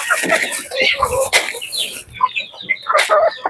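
Shamo chickens cluck and squawk close by in a busy flock, with overlapping calls and a brief lull before another burst of clucking.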